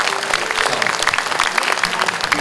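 A crowd gives the Nam-gu district mayor, Kim Byung-nae, a round of applause at a commemorative ceremony. The clapping is dense, steady and continuous, with no voices over it.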